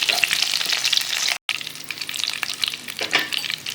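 Eggplant sautéing in oil for an Andhra-style stuffed brinjal masala curry, a loud close crackling sizzle with scattered spatters and stirring scrapes, continuous apart from a momentary dropout.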